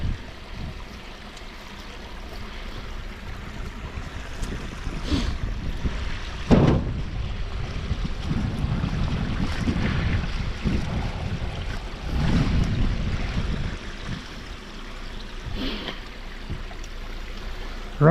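River water runs steadily past a trapline outdoors, a continuous broad rushing wash with a few louder splashes and knocks mixed in, close by and with no voices.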